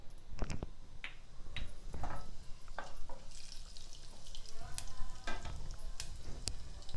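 Cumin seeds crackle and sizzle in hot ghee in a pan, sharp spitting pops scattered over a steady fry hiss, close by, with occasional clinks of stirring.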